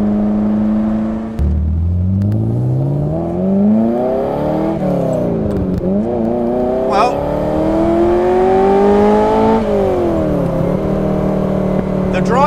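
Ferrari 308 engine with a sorted exhaust revs steadily while driving, its pitch climbing through several gear sweeps and dropping between shifts, loud and continuous up close.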